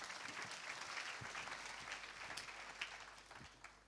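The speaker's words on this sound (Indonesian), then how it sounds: "Tepuk tangan bagi Tuhan." A church congregation claps together for a few seconds, a steady, somewhat distant wash of applause that stays fairly even before thinning slightly toward the end.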